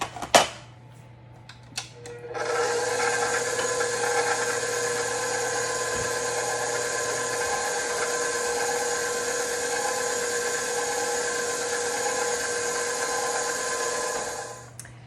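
An electric mixer whirs steadily as it beats chocolate mousse torte batter, starting after a few clicks and running as a loud, even, high-pitched motor drone for about twelve seconds before switching off.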